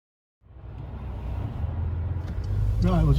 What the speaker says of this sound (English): we'll just take up the road in this 992 GTS